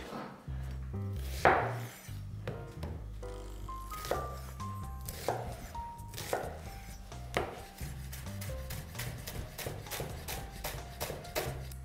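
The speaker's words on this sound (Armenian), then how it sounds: "Եվ սոխը մանր կտրատում ենք։" A knife chops onion finely on a board, rapid steady close taps that quicken into a fast even rhythm, heard alone in a quiet kitchen.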